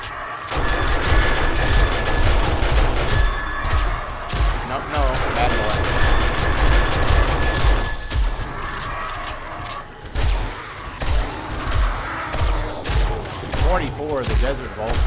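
Gunfire from a range of weapons in 7 Days to Die, including a Desert Vulture pistol and an SMG, rapid shots and bursts cycling through one after another, loud and continuous, with a voice talking over it.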